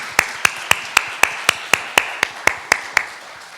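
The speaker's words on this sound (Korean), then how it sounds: "이분들을 감사의 박수 한번 하겠습니다." A Korean church congregation at a Thanksgiving Sunday service claps in unison. Around a dozen crisp, evenly spaced claps come at roughly four per second, close and clear, then ease slightly in loudness, with no talking over them.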